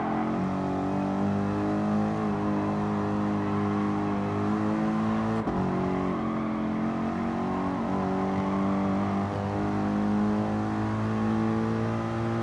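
A race car engine in Gran Turismo Sport during an endurance race at Catalunya, droning loudly and continuously, with pitch climbing through gears and dropping at shifts and braking.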